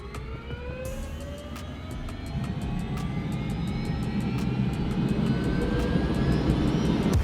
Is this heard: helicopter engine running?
yes